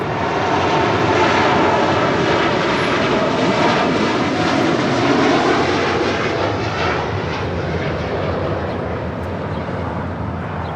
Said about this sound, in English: That was Atlas Air Flight 8711 departing to Anchorage on a 747-8 freighter